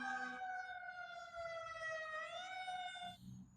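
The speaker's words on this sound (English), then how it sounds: "Oh fuck, there's an ambulance." An ambulance siren wails in a steady rising and falling tone, sounding somewhat distant and faint, with low traffic rumble underneath.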